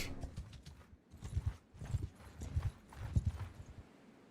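Horse hooves in Mount & Blade 2: Bannerlord clip-clop in a quick, regular rhythm of close, distinct hits, fairly quiet and with nothing else alongside.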